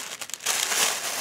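Tissue paper from a cosmetics kit crinkles and rustles as it is unwrapped, a few light crackles at first, then a steady, close, continuous crumpling that fills the rest of the moment.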